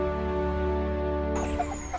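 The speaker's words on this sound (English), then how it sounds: "The chickens here are in mobile tractors." Chickens kept in mobile tractors on pasture give soft clucks over a steady low hum, with a brief higher call near the end, all fairly close and moderate in level.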